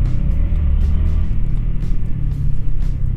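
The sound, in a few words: road traffic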